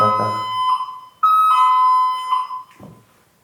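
Alarm ringing in a hotel room, a loud, close electronic tone that sounds in steady beeping stretches and then cuts off.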